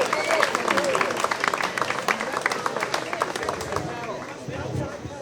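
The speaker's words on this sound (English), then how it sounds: "Give her a round of applause," Crowd applause at an outdoor protest rally against mail-in ballots in a park, scattered open-air clapping mixed with cheers and chatter, fairly close and steady.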